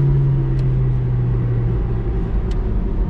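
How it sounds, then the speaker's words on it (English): A 1992 Citroen ZX 1.4i with a 75 hp petrol engine pulls hard at full throttle in city driving, a loud steady engine drone and road rumble heard from inside the car, with no talk. "Okay, we're accelerating, guys. Full throttle."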